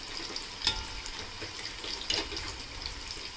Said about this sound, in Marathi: आपण आता स्लो गॅसवरतीच ही भजी चांगली फ्राय करून घेऊयात।